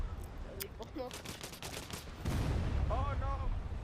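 Gunfire in a Battlefield video game match with pistols only, a busy run of sharp shots, some overlapping, followed by a louder dense burst, with a voice talking briefly over it.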